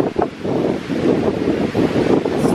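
Strong wind buffets the microphone on an outdoor screened view deck, a loud continuous roaring rumble that swells and gusts throughout, with no voices.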